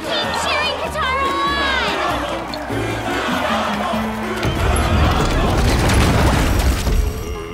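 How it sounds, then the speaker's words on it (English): A crowd cheers and shouts at a colosseum fight in the video game Puppeteer, a loud, continuous roar under bright musical tones and a rumbling swell that builds toward the end. "Everybody keep cheering Kataro"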